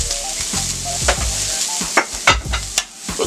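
Onions with a little sugar caramelizing in a hot pan, a steady sizzle broken by a few scraping stirs of a spatula, close and loud, no voices.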